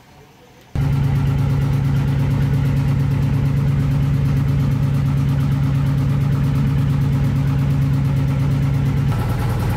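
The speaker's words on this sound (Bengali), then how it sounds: "ট্রলার আমাদের জন্য জেটি ঘাটে ওয়েট করতেছে।" A trawler boat's engine idles at a jetty with a loud, steady low throb that starts abruptly and runs unbroken, close and alone.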